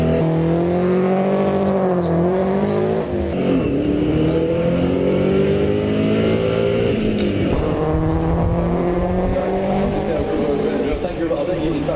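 A loud drag racing car engine revs hard toward 7,000 rpm and accelerates continuously at Santa Pod, pitch sweeping up and down, with a voice talking underneath.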